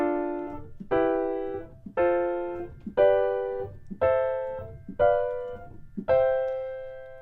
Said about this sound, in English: if you make triad chords on each chord, each root, it's gonna sound like this